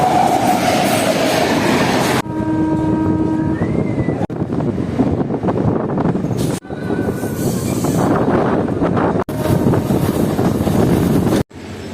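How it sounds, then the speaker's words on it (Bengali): A Sealdah–Godda MEMU passenger train rumbles loudly and steadily at a railway station, with rail clatter, brief tonal squeals and several abrupt breaks in the sound. "এদিকে দাঁড়িয়ে আছে আমাদের ট্রেন।"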